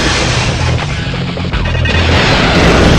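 A loud explosion booms in a Spider-Man video game, a dense, sustained crashing blast with rumbling debris that fills the whole moment and swells slightly toward the end.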